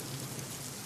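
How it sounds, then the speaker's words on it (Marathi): Heavy cloudburst-like rain pours down in Sinnar, Nashik, over a flooded main market, a steady dense hiss of water without any letup. "सिन्नरमध्ये अगदी ढगफुटी सदृश पाऊस झालेला आहे"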